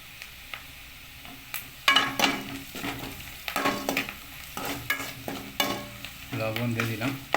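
Chopped onions frying in a pan with intermittent stirring, a soft continuous sizzle broken by repeated scraping and clattering strokes of a spoon, close and fairly quiet, with no voices.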